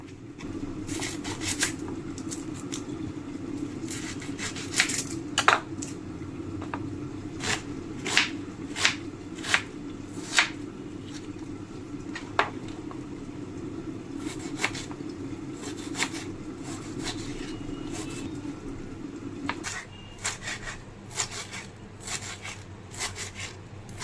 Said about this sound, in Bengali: টমেটো পেঁয়াজ আর ধনে পাতা কাটা হয়ে গেল এক ভুর্জির জন্য